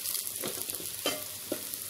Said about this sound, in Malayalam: ഇത് നന്നായിട്ടൊന്ന് ഇളക്കി കൊടുക്കാം.